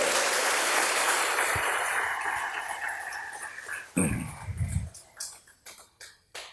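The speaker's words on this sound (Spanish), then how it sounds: "Dale un fuerte aplauso al que vive, por favor." Church congregation applauding in a hall, a dense wash of clapping that gradually thins out and fades into a few scattered claps and quiet.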